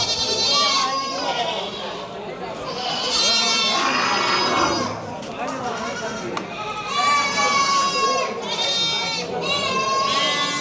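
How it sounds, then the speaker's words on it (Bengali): Goats at a crowded livestock market in Sylhet bleat repeatedly and loudly, several animals close by, over a steady hubbub of people talking. "ওখানে আছে ছাগলের হাট, ছাগল আছে"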